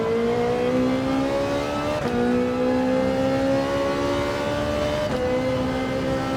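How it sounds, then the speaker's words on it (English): A Ferrari 450 engine in Gran Turismo 7 revving hard and loud through the gears, with a steady climbing whine broken by two quick shifts, each followed by the pitch rising again. "Now the Ferrari 450 likes to be revved out"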